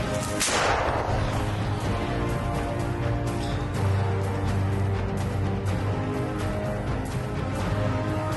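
Mortar firing by Ukrainian troops: a single loud, close boom near the start, followed by a long rumbling echo over continuous low noise, with no speech.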